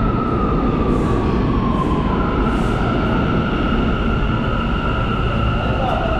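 A New York subway train pulls into a station, with a loud continuous rumble and a rising metallic whine, plus faint high squeals layered over the roar.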